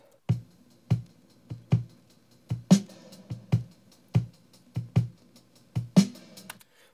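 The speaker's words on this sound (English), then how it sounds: "I've had this sample from a drum break." A chopped drum break sample loops as evenly spaced kick-like thumps with occasional brighter snare cracks, a steady mid-tempo rhythm, dry and close with faint background noise between hits.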